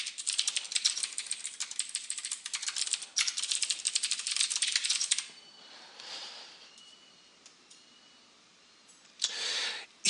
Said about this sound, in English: my typing is really impaired right now because my tablet's in front of my keyboard